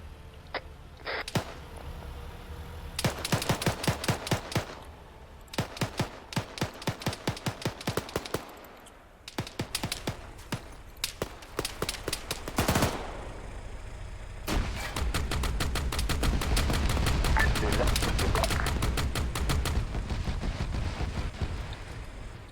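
Enemy gunfire in the video game Arma 3, with bursts of sharp rifle and machine-gun shots in clusters at first, then a heavier, continuous roar of fire toward the end, without speech.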